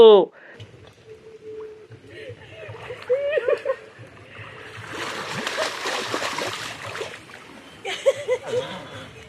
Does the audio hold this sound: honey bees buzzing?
no